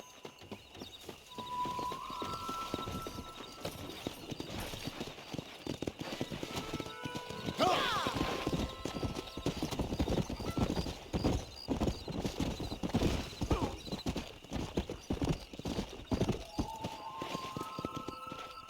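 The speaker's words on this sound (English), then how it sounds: "Eles vão apostar corrida de cavalo." Horses galloping in a race in Red Dead Redemption, with rapid steady clip-clop hoofbeats running throughout, a whinny near the start and end, and game ambience and faint music beneath.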